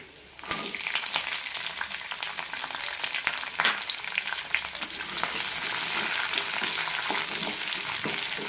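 Garlic, curry leaves and small onions fry in a pan with a steady, close sizzle that holds through the whole stretch, with occasional stirring scrapes and no talking.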